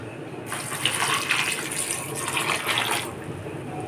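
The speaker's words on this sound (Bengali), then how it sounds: "এখন জল দিয়ে বয়েলড করে নেব।" Water from a tap pours steadily into a pot of small soybean chunks before boiling, a continuous close splashing gush with no talking.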